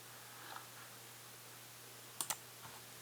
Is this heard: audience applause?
no